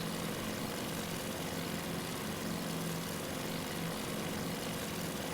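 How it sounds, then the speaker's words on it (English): A dive bomber's engine drones without a break in a Task Force Admiral naval air game, a dense, even propeller roar that holds steady and loud with no pauses. "so here's our dive bomber"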